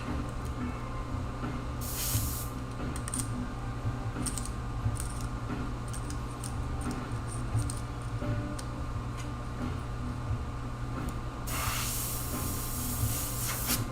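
An airbrush spraying paint, with two bursts of airy hiss standing out over a constant background hum and scattered small ticks, close by and without speech.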